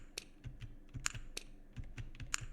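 A computer keyboard key pressed repeatedly, sharp close clicks arriving in an irregular series over a quiet background.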